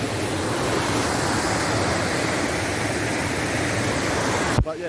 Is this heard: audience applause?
no